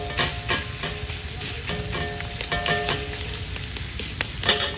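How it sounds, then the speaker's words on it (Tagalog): Ground meat sizzles steadily in a hot pan with onion and garlic while being stirred, a close, continuous frying crackle with scraping clicks and no talking. "So, halu-haluin na natin si giniling na 1/4 nang sa ganun ay maisangkot siya na sa sibuyas at bawang."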